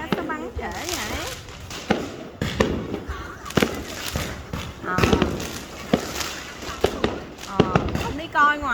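Lunar New Year's Eve fireworks over the city of Kon Tum, heard as a run of sharp bangs and pops at irregular intervals, some of them close, while people talk and chatter throughout.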